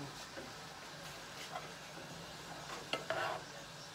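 Crack slaw of cabbage fries in a pan while being stirred, a faint sizzle broken by scraping and clinking of a utensil against the pan, with a couple of sharper clatters near the end.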